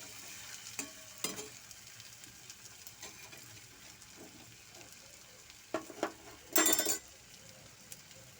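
Vegetables frying in a pan give a faint, steady sizzle, with a few scattered clinks of a utensil and a brief louder burst of stirring near the end.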